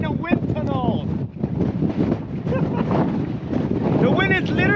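Strong wind buffets the microphone at a high lookout above the city of Herat, Afghanistan, a steady loud roar and rumble throughout with voices talking over it.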